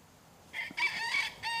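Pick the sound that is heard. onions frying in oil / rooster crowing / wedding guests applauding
rooster crowing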